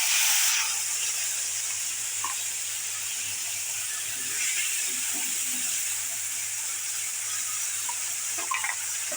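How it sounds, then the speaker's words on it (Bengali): Onion, garlic and ginger paste hitting hot oil for a fish curry, a steady broad sizzling hiss that starts abruptly and continues evenly at moderate level, with no talk. "পেঁয়াজ, রসুন, আদা বাটা ছেড়ে দিলাম।"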